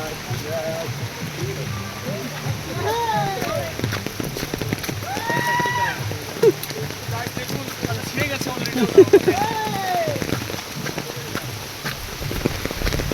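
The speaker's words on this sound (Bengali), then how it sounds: "বিশাল বৃষ্টি।" Steady rain hisses across the whole clip, with people talking and calling out over the downpour.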